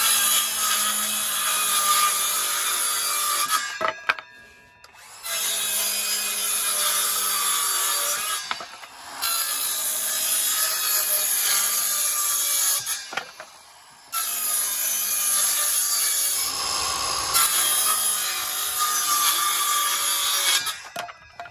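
A Milwaukee M18 brushed 6-1/2 inch cordless circular saw (2630-20) rips through 3/4 inch plywood in four loud, steady cuts, each separated by brief pauses as the blade spins down.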